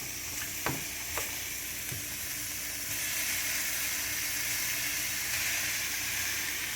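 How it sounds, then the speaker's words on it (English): Beef and onions searing in a hot pan for stroganoff, giving a continuous close sizzle with a couple of brief utensil clicks early on, then a steady hiss that swells slightly toward the end. "You want to get a sear on the meat and the onion."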